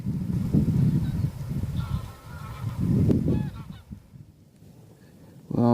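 Geese honk in several loud bursts near a nature reserve beside a caravan park, with quiet gaps between the calls and a faint outdoor background.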